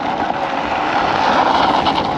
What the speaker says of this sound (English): there's just a little bit too much wheel spin. You can hear it.